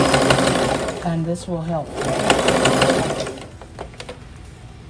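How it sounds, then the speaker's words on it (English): A sewing machine stitches a zigzag seam on terry towel fabric for a robe, a steady close mechanical whirring and clatter while someone talks over it. "then use your zigzag stitch,"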